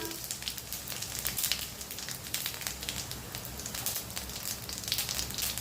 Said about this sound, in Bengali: শুকনো লঙ্কা দিলাম, জিরা ফোড়ন দিলাম